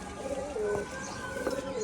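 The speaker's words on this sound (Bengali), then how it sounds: "top class Payra" Rajshahi pigeons, colour-matched flying stock, coo in a few close, wavering calls over a low background, while a voice is faintly audible.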